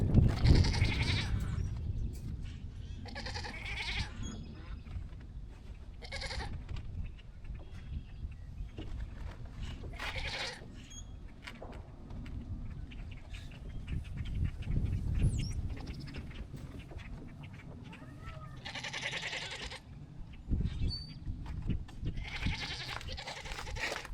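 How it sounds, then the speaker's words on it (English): Repeated high bleats from five-week-old baby goats come in bursts across the scene, some near and loud, others fainter, over a steady outdoor background. "We got more baby goats. They're tiny. They're only 5 weeks old."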